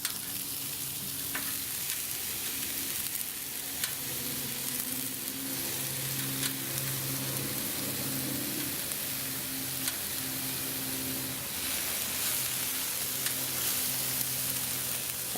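Peppers frying on a Blackstone griddle give a steady, broadband sizzle that holds continuous and fairly even throughout, with faint crackles and a low hum beneath and no talking.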